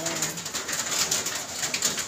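A single bird calls outdoors during steady heavy rain, the speaker guessing a crow; repeated short cries sit over a constant hiss of rainfall.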